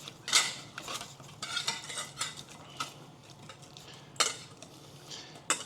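A utensil stirring an olive oil and vinegar dressing in a bowl, with close, uneven clinks and scrapes against the container in bursts, some sharper taps standing out over a quiet background.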